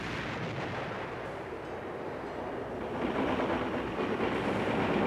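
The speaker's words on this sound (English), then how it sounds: "That's a shell exploding." An artillery shell bursts into a dense, sustained roar of blast and rumble that swells louder toward the end, with no voices over it.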